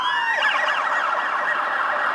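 A loud emergency siren wails nearby, its pitch sweeping and warbling continuously.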